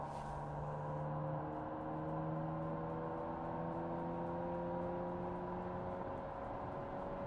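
Steady, droning engine note of a GM bus engine fitted to a custom muscle car in the BeamNG driving game, holding a constant pitch with a few stacked tones, loud and continuous throughout with no talking.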